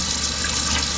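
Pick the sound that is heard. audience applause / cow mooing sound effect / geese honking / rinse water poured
rinse water poured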